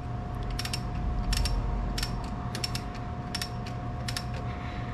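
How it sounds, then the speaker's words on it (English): An old-time hand ratchet being snugged down in a machine shop, sounding as several quick bursts of clicking pawl ratchets in separate clusters over steady background hum, close and fairly loud. "I've got an old-time ratchet, and I can snug this down."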